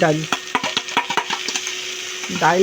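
Masoor dal lentils go into a hot frying pan with oil, sizzling under a run of quick utensil scrapes and knocks, with a brief voice at the start and end.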